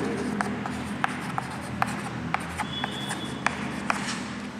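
Chalk or marker writes on a board during a lecture, making a series of sharp taps and short strokes at an irregular rhythm over a low room hum, with faint speech in the background.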